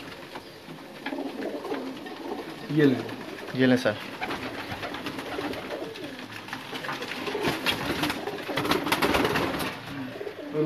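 Racing pigeons at a champion loft coo and flutter nearby, with soft rolling calls under a voice, who speaks briefly while a steady outdoor hum continues throughout.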